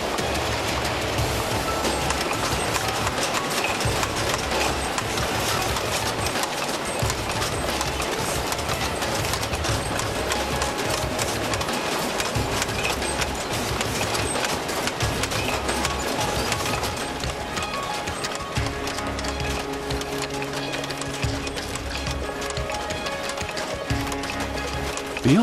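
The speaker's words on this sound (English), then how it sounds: "The strips go straight to these workers, who punch the cork shapes out." Cork shapes are punched out of cork strips in a factory, making a dense, busy stream of rapid clacking and thumping with steady machinery din and no clear pauses.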